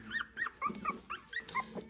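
Tiny three-week-old puppies from a litter of eight make a string of high, short whimpers and yips, close up and moderately loud, each squeak arriving in quick, uneven bursts.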